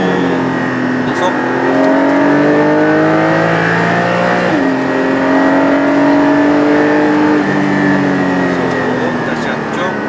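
A Porsche, either a Cayenne Turbo GT or 718 Cayman GT4, accelerates on a race circuit, its engine droning steadily with rising revs and a gear change midway, while an instructor talks over it throughout.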